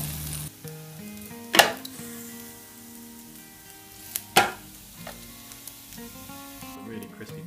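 Bacon sizzles in a SMART Bacon Express cooker, a steady close hiss with a couple of sharp clatters, played over a tonal musical background.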